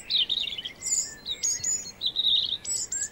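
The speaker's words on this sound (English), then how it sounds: "The robin is one of the first and loudest." A robin singing high in a forest canopy, a run of bright, varied warbling phrases and trills in quick succession, close and clear over a quiet background.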